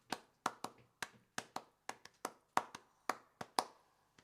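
Hands clap a sharp, dry rhythmic pattern, about a dozen crisp claps in uneven groupings, close and clear with quiet gaps between them, no voices.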